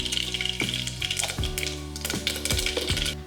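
Mustard seeds sputter and pop in hot oil in a pan as the base for a soya chunk and green pea gravy, with sharp crackles at irregular intervals over a steady sizzle and background music.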